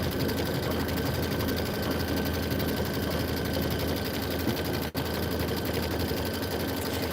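A sewing machine runs continuously at a steady, even whir, stitching a pieced quilt block for a winter mittens pattern, with one brief dip near the end.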